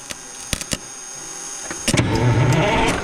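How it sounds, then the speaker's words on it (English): A starter cranks the Detroit 6-71 diesel in a truck: a few sharp clicks, then a loud, close mechanical whir that builds over the last second, with no voices. "it's bumping over the starter."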